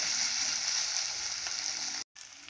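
Ginger garlic paste sizzles steadily in hot oil in a pan, a bright, even hiss that holds loud and close before cutting out abruptly near the end.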